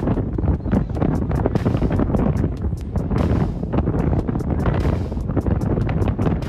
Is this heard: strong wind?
yes